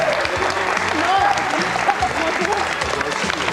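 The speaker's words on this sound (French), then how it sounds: "On salue, on applaudit la famille Rigolo" Studio audience of a 1993 French family game show claps for a contestant family, dense applause with a host's voice talking over it.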